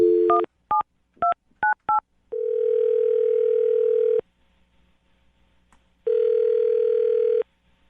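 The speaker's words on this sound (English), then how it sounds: "I'm going to dial his phone number right now" Several short touch-tone beeps in quick succession, then a steady telephone dial tone that stops, a pause, and the dial tone returns. Clear and close, no voices.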